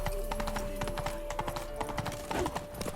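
Horse hooves clip-clop steadily in The Witcher 3, a close, even rhythm of repeated hoof strikes running throughout, with no talk over them.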